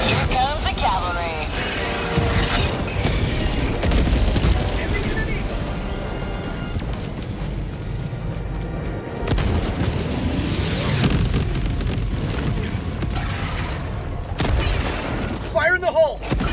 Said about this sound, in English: Requesting air support! Here comes the cavalry!